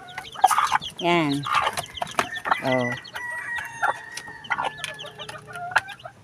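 Chickens cluck and chatter around a feeder, with several hens calling up close, a crowing-like call and busy pecking sounds, while someone speaks a word.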